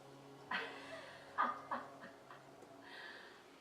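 A small dog perched on top of a person during an indoor yoga session gives several breathy whimpers and short panting snorts, close and soft, spaced irregularly with quiet gaps between.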